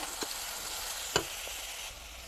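Ground coriander, cumin and garam masala powders stirred and fried in a pan, a steady close sizzle broken by a couple of sharp spoon knocks and scrapes, with no voices.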